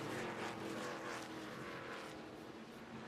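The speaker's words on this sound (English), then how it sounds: "Taylor Gray's going to fight back on the bottom of the racetrack in that 17 truck" NASCAR-style race trucks, including the No. 17 truck, roar around an oval racetrack during the 2024 Liuna! 175, a steady loud engine drone with a slight passing swell and no talk.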